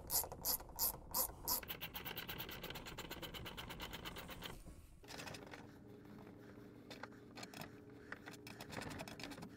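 Socket wrench ratcheting bolts into a wall while a TV wall mount is installed, a quick series of close clicking ratchet strokes at first, then softer rubbing and scraping with scattered clicks.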